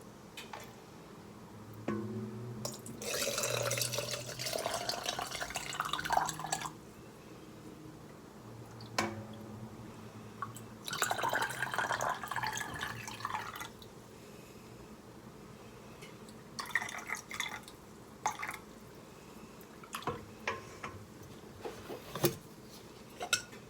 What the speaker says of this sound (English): I'm going to start filling my jars with the hot water and placing them in the canning pot.